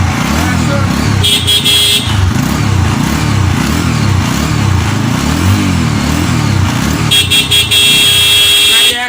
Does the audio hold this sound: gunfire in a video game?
no